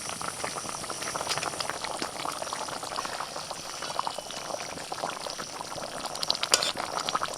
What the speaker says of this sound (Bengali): মশলা ফুটছে